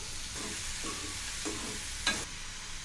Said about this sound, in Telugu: ఇప్పుడు మనం ముందుగా కోసి పెట్టుకున్న మష్రూమ్ ముక్కను వేసుకోవాలి